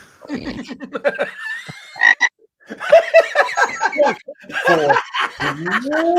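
A frog croak sound effect plays in quick repeated pulses alongside chatter and laughter from several people talking over it, loud and close.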